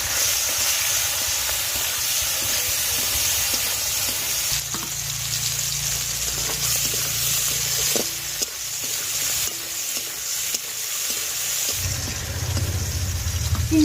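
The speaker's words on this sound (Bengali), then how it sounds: "ওই একই তেলে আমি চিংড়ি মাছটা ভেজে নেব।" Prawns frying in mustard oil in a wok on a home stove, a loud, steady, close sizzle and hiss that runs throughout with occasional stirring scrapes.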